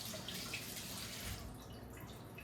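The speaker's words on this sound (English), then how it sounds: "We're going to add just a little extra water to help counterbalance that." Extra water poured from a container into a pot of thick low-carb chili, a steady splashing trickle that carries on with no talking, fairly faint.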